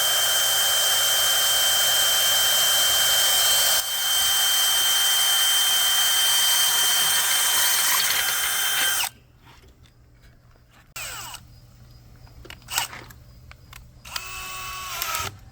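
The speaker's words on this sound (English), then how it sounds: "set that right on the center, and then just start drilling" A power drill whines loudly and steadily for several seconds drilling aluminum pool fence posts, then stops; quieter bursts of drilling and handling noise follow.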